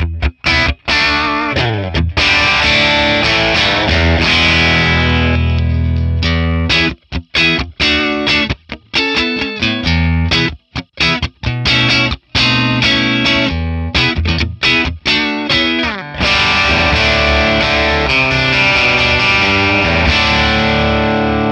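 A Telecaster electric guitar played through a Friedman Plex DI amp model with an edge-fat setting, no reverb and reduced input gain. Loud, distorted chords and riffs ring out with sharp stops and restarts, no voices.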